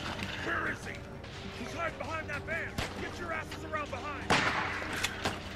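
Gunfire from The Walking Dead video game as zombies are shot in the head, a few sharp cracks scattered among game noise and a steady hum, with voices talking over much of it.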